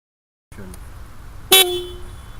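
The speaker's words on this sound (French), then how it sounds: "Le klaxon fonctionne." Motorcycle horn tested during pre-ride checks for a 2013 motorcycle licence exam: after a moment of silence and a faint idle hum, a single short, loud beep sounds, then the quiet background resumes.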